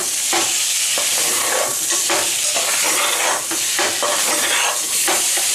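Mutton pieces fry on a high flame in a curry pan, a loud, close, continuous sizzle and hiss with rhythmic stirring scrapes and bursts of spattering throughout.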